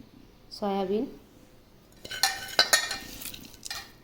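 Soft-cooked rice is kneaded and mixed by hand in a bowl for pet dogs, giving soft clinks and squishy stirring scrapes that get busier in the second half, with a brief voice near the start.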